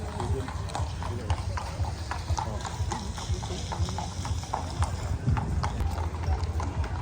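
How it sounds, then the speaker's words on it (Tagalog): Racehorse hooves clip-clop in an irregular, busy rhythm nearby at the stables of Canterbury Racecourse in Sydney while people talk over the steady clatter. "nandito kami sa mga kwadra, ang gaganda, ang lalaki ng kabayo sa personal"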